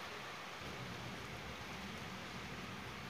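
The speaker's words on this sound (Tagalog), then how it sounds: "medyo lumalakas yung ambon" Light drizzle turning heavier outdoors during yard work pulling grass, a steady dense hiss of rain that fills the whole clip at an even level, with no voices.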